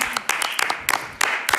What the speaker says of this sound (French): Très bel applaudissement